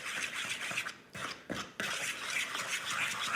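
Noodle dough being mixed by hand after about three cups of flour are added, a steady broadband scraping and stirring texture with brief pauses, close and fairly loud with no talking.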